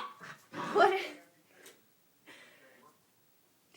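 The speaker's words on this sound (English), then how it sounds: "What you barking at?" A dog close by gives one loud, strained bark-like yelp, followed by a few softer whining vocal sounds with quiet gaps between them.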